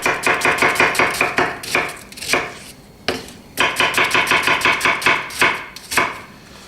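A knife dices an onion on a cutting board in fast, loud, close bursts of rhythmic chopping, with brief pauses between runs and no talking.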